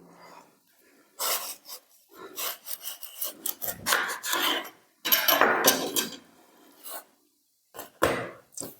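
A watermelon being cut open with a knife in a home setting, heard as close, loud bursts of rasping and crunching strokes with short pauses between them, with no talk.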